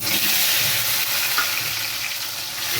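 Taro and two bay leaves fry in hot oil in a pan, producing a loud, even, close sizzle that fades slightly toward the end, with no talking.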